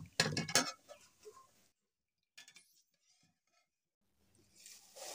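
A utensil lifts fried poha (flattened rice) out of hot oil in a home kitchen pan, giving a brief burst of close metallic clinks and stirring scrapes, then near silence and a faint sizzle.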